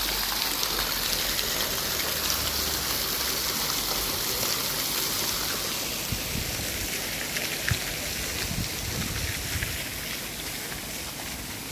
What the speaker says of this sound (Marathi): इथे एंटर करताच आपल्याला एक स्प्रिंकलर दिसतं, जे या परिसराची, या गार्डनची शोभा अजून वाढवतं।